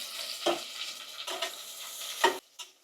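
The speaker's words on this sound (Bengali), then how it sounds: "পেঁয়াজটা দিচ্ছি ভাজতে। তেল গরম হয়ে গেছে, একটু বেশিই গরম হয়ে গেছে।" Onions going into very hot oil for a mutton curry, with a few bursts of sizzling and stirring scrapes spaced across a short, close stretch of frying.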